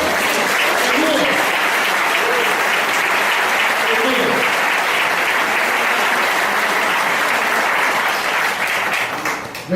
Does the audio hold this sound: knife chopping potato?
no